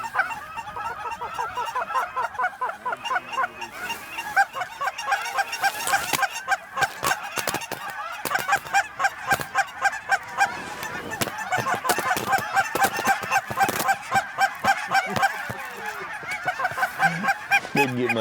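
A big flock of geese honks constantly overhead during a Texas Panhandle goose hunt, with dense overlapping calls that rise and fall in waves, loud and close, and no talking.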